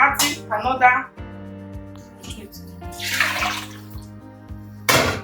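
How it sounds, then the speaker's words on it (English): Water pours into a pot of ogbono soup in splashy bursts, with a sustained pour near the end of the stretch, over a steady tonal background hum. "I will add a little water and I will cover."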